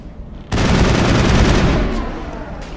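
Sustained gunfire from the Mass Effect video game, a loud dense burst starting abruptly after a brief quiet moment and rattling continuously for about a second and a half before tapering off.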